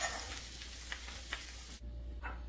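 A lentil mixture sizzles faintly in a pan while being stirred, with a low steady fry and a few soft scrapes, quiet and close, with no talking.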